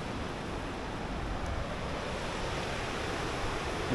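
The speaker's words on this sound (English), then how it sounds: "You just see how full the river is, and it's quite aggressive there." A full, fast-flowing river rushes past close by in a steady, broadband roar of churning water with no other sounds.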